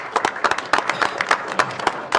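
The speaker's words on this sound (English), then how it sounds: "I just want to give a quick round of applause and thank you to Kim" Brief round of applause from attendees at a city meeting: a short burst of scattered, moderately loud claps from a small group, close and uneven, lasting only a couple of seconds.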